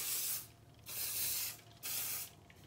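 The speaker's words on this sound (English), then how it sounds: "Mist with hairspray." Hairspray misted onto a styled hair look, three soft hissing sprays of about half a second each, separated by short pauses, fairly quiet and close.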